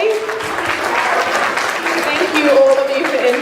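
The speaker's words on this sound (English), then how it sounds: "if we could just give one more round of applause to all of the entrants today" A festival crowd applauds the entrants of a cosplay competition, with sustained, full clapping throughout and a voice talking over it.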